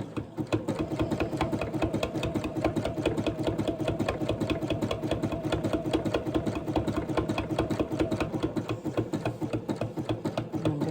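A sewing machine stitches fabric strips for a rug, running in a fast, even stream of mechanical ticks with a motor hum that keeps going without a break, close by and with no talk.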